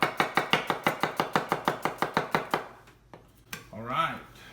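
A Kuma or Dalstrong kitchen knife chops through food on a board in a fast, steady run of about sixteen crisp knocks, then stops; a few scattered clatters and a brief voice follow.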